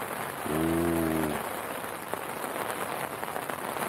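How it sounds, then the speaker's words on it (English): Rain patters steadily on a tent during a weekend camping trip in Norfolk, a dense, even hiss of drops close overhead, with a brief hum from a voice near the start. "That's rain."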